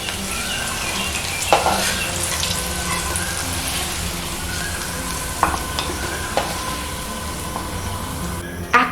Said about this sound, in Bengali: এইভাবে একটু টাইম নিয়ে উচ্ছেগুলোকে লাল লাল করে ভেজে নিতে হবে।